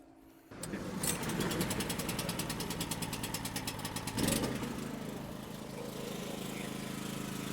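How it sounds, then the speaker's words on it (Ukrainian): A portable generator engine starts after a brief quiet moment and settles into a loud, steady running chug with a rhythmic mechanical pulse, a short surge partway through, then keeps running close by. "Е, заводимо генератор."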